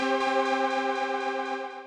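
A lush, sustained synth chord drenched in echo delay rings steadily and fairly loud with no talk, its smeared repeats blurring together and slowly thinning toward the end.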